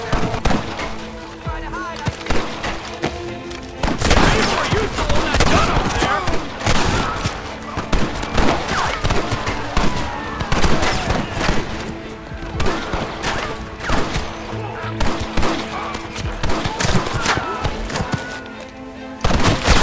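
Gunfire in Red Dead Redemption, a dense, sustained barrage of loud overlapping shots and sharp bangs from several guns, continuing throughout with voices shouting over the shooting.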